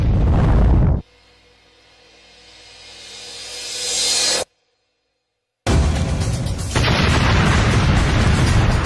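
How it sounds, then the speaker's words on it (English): An El Al Boeing 747 cargo plane crashing into an apartment block, a loud roar swelling over several seconds, a sudden cut to silence, then a massive sustained blast of explosive noise. "El Al 1862 smashes into the 6th floor of the 11-story apartment block."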